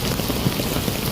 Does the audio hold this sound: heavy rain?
yes